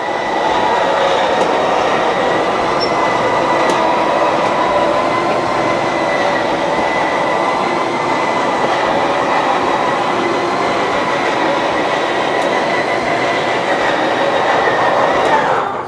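2014 Itasca Spirit 31K RV slide-out motor extending, a steady loud mechanical whine and rumble with faint squealing running continuously for about sixteen seconds.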